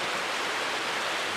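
A river flowing steadily at night, a dense, even broadband rush of water that stays unbroken and fairly loud throughout, with no voices.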